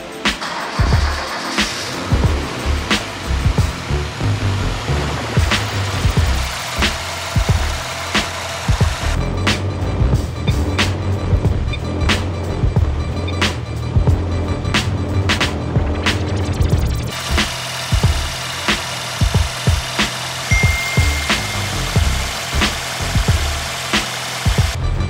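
A Ford Sierra XR4 Turbo with a 2.3 SOHC engine idles steadily nearby, its even rhythmic pulsing continuing throughout with faint mechanical ticking.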